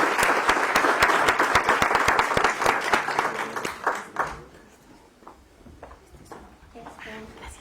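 An audience claps loudly and densely, then the applause tapers off into scattered claps, with a voice speaking over it.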